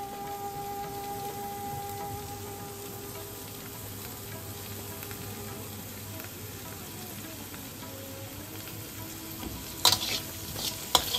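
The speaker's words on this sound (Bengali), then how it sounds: "এবার আমরা হালকা হাতে নাড়াচাড়া করে নিলাম।" Potol dolma filling mixed with grated khoya kheer is gently stirred in a pan, a steady soft sizzle and scraping throughout, with a few sharper clinks near the end.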